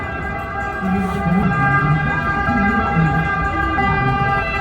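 An emergency siren wails in central Rome, a rising and falling tone sounding moderately distant over steady traffic and city noise, continuing for several seconds.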